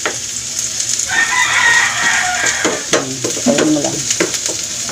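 Onion and garlic sautéing in a pan, a steady moderate sizzle with occasional stirring scrapes and clinks, heard close with no talking.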